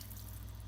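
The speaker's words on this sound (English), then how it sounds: "We're going to go ahead and add some water" Water added to a pot of vegan lasagna soup with tomatoes, a short, faint stream of liquid over a low background hum.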